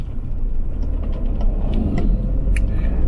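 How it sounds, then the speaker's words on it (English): A coach rumbles past on a narrow road, its heavy engine and tyre noise loud and close, with a continuous low roar throughout. "I've just got a coach coming up"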